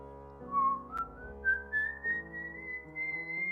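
A person whistles an imitation of the legendary El Silbón's eerie call, a rising series of clear, sliding notes climbing in pitch, close and solo, over soft background instrumental tones.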